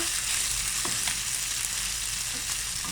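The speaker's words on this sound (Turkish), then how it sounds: "Birazcık da bunu kavuruyorum." Steady sizzling and crackling of chicken and peppers frying in a hot pan, with a few soft clinks of stirring, no voices.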